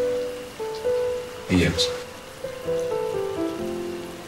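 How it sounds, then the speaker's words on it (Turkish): Rain falls steadily on a covered car outside at night, a soft continuous patter with a brief louder clatter, while people talk quietly nearby. "Yağmur başladı tekrar."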